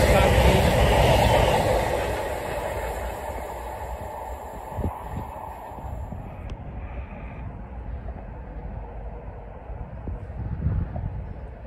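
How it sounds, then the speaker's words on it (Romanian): A train roars loudly through the platform at Chesterfield station without stopping, the rush peaking at the start then fading over several seconds into quieter rumble with a few clanks and a brief rise near the end. "Aici probabil trec trenurile care nu opresc în această stație."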